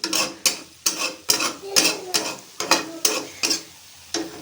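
A spatula scrapes and stirs spiced food in a pan with no oil, about a dozen distinct strokes in a steady rhythm, close and clear.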